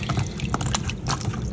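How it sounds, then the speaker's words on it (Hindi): Salted, halved potatoes slipped into a bowl of water in a home kitchen, giving soft splashing and trickling sounds, close and continuous with a few brief drips. "अब इनको मैं पानी में ही इस तरह रख दूँगी,"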